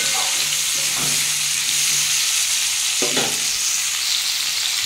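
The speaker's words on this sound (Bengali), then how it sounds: "পেঁয়াজ সব একসাথে দিয়ে দেবো। দিয়ে ভালো করে ভেজে নেবো" Potatoes, onions and tomatoes fry together in hot oil in a pan, making a loud, continuous sizzle with a couple of stirring scrapes, close up and with no speech.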